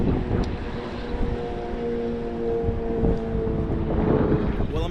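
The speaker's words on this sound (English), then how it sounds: "the wind definitely picked up" Strong wind buffets a fishing boat at sea off Florida, a continuous rushing roar with steady engine hum beneath and brief faint voices.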